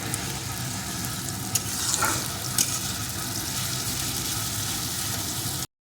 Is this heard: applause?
no